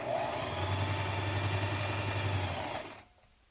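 A sewing machine runs a steady, continuous stitching seam on a fabric face mask, a loud even motor whir for nearly three seconds that cuts off abruptly and leaves near silence.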